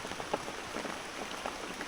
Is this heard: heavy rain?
yes